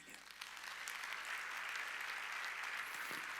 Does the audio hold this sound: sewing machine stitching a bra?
no